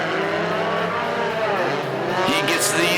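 Mini stock race cars battle on a figure 8 track at Perris Auto Speedway, engines roaring loud and close with a brief tire squeal near the end, while a commentator talks over the racing.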